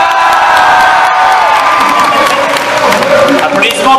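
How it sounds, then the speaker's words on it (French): An audience at the Paris Manga 2014 convention claps, cheers and whoops continuously, a dense and loud crowd noise with voices mixed through it. "Et applaudissements parce que c'est ressemblant."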